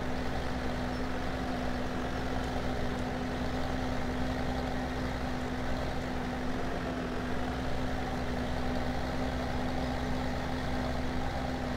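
A heavy truck engine in Farming Simulator 17 drones steadily while the truck spreads manure across farm fields, a constant low hum with a strong tonal line that runs evenly through the whole stretch, with no talking over it.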